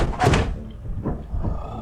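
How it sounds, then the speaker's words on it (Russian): A door slams shut in the video game Lethal Company, a loud heavy thud followed by a couple of softer bumps, close and prominent with little talk over it. "Закрывай дверь!"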